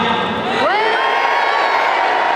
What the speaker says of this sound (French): Vous n'êtes pas obligé de hurler.